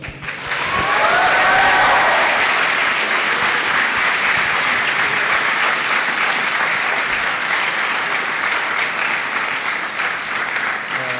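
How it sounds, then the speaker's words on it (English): An audience at an IIT Madras alumni meetup breaks into sustained applause and cheering, rising quickly to a loud, dense roar of clapping that holds steady before slowly thinning. "If you enjoyed, can you give a cheer up?"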